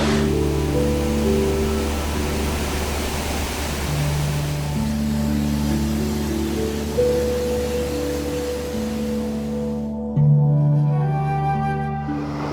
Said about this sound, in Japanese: こんなとこにあるシャワー壮大すぎるやろこのシャワー。